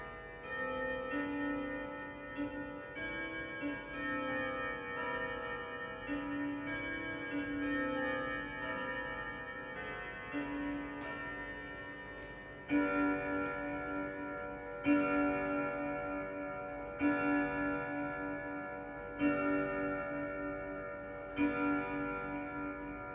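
An antique 1925 French Vedette dual chime clock ticks steadily in a quiet room, heard from about twelve feet away, with another clock faintly present in the background.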